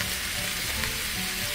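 Shark meat stir-fried for pad cha sizzles steadily in a hot pan, a continuous close hiss with faint stirring scrapes.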